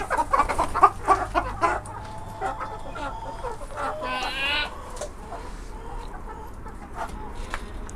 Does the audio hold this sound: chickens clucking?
yes